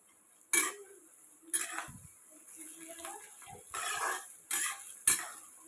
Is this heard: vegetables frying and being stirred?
yes